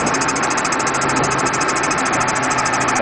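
A Ford E350 shuttle bus V8 idles steadily and close up, giving off a continuous even hum and a faint rhythmic ticking, with no voices.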